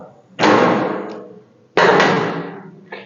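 Scrap-metal door shell on a Chevrolet C10 truck being worked off, with two loud metallic bangs about a second and a half apart, each ringing and decaying, the second followed by a short clank.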